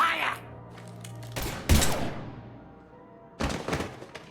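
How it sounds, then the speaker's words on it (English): Gunfire in the Mass Effect 3 video game: a few loud, sharp bursts of shots, one near 1.4 s, a heavy blast at 1.7 s and another burst near 3.4 s, over low game music and ambience. "Now open fire!"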